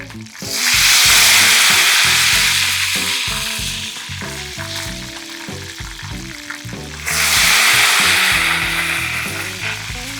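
Ghevar batter poured by the spoonful into very hot ghee for deep frying, loud close hissing that swells sharply twice, with bubbling crackle underneath and no voices.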